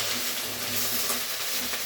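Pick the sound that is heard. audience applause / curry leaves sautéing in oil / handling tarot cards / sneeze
curry leaves sautéing in oil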